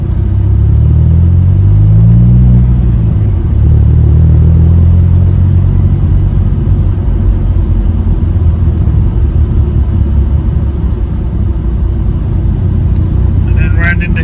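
A car rolls slowly into a riverside car park with a height barrier, a steady low engine rumble and tyre noise filling the cabin throughout, loud and even, with no talking.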